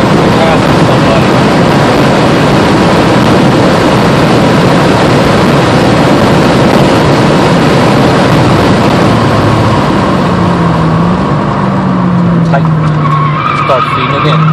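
A Mercedes AMG C55 on a race track at Summit Point, with loud, constant wind and engine roar from inside the car while driving at speed, and a falling engine note near the end.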